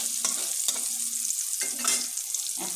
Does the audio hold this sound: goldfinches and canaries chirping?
no